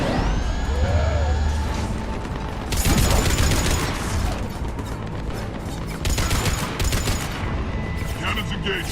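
Heavy cannons firing in Mass Effect 3 Legendary Edition, Omega DLC: repeated loud booming blasts and crashing bursts over a dense sci-fi game soundscape of hums and tones, with brief spoken lines mixed in.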